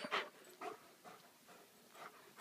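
A video game dog whimpers in a few short, soft whines spaced apart, faint and thin against a quiet background.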